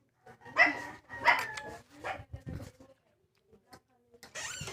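A dog barks a few times close by, short sharp yaps spaced across the moment, with people talking nearby.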